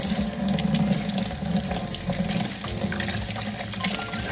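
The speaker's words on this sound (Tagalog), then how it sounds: "Hugasan muna natin ang mga ingredients." Onion, tomatoes and eggs rinsed under a running kitchen tap, a steady close rush of water splashing into a sink, continuous and fairly loud with no voices.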